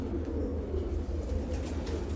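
A pigeon coos in low, soft, repeated murmurs close by, steady over a short stretch with no talking.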